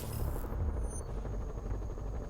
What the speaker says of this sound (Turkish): Helikopter geldi bu sefer de.